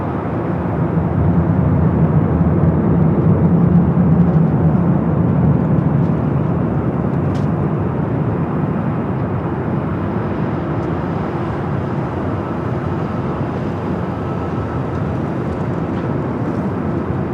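A large jet aircraft taking off from LAX, a loud, sustained low roar that swells early and then holds steady with a slight fade.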